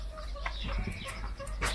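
Chickens clucking in a backyard garden, a few soft, short clucks over a low rumbling background, faint and somewhat distant.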